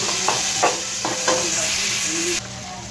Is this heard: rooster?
no